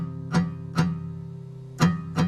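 Four soft, muffled plucks on a guitar string damped by the third finger, each a short dull thump over a low steady hum, evenly spaced with a pause in the middle.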